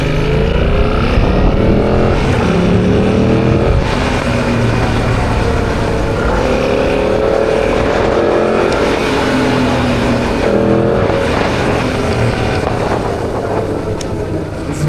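A 2025 Yamaha MT-07 700 motorcycle, brand new and not yet warmed up, pulls away hard with its engine revving loudly and steadily, the rising and falling drone filling the whole stretch with no voices.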